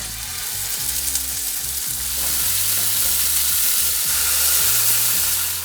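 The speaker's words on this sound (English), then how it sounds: "you want it to sizzle when you put it in" Hot oil sizzles and crackles steadily in a pan, loud and close, with occasional clinks of a utensil underneath.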